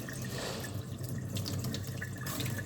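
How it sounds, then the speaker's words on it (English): Water running and splashing as rice is rinsed by hand in a bowl for a beef curry stew, a steady close wash with faint drips and no talk. "That's why it is important to rinse your rice."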